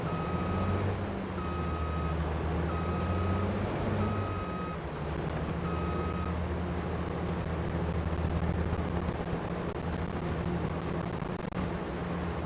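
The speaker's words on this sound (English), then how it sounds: "I'll have to back the combine up, otherwise I'll destroy the crops driving into it" A combine harvester in Farming Simulator 22 backs up with its reverse alarm beeping: about five evenly spaced electronic beeps over a steady low engine drone, then the engine keeps humming alone.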